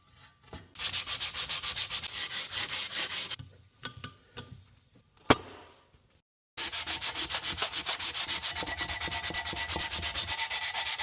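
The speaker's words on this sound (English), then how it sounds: "We're going to put some paste wax on this and make sure that it's nice and smooth, as we will on this surface." Paste wax rubbed by hand onto the metal table of a repaired thickness planer, steady rhythmic back-and-forth strokes, close and loud, with a short pause and a sharp tap midway before the rubbing resumes.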